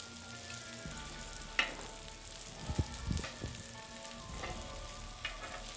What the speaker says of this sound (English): I'm gonna move my peppers back a little bit, gonna drop these onions in,